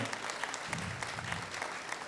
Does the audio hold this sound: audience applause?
yes